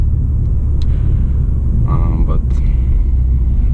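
A 2020 BMW 430i xDrive with the B48 engine, 140,000 km on it, cruising on a good asphalt road: steady loud low cabin rumble of engine and tyres throughout, with a brief voice speaking over it.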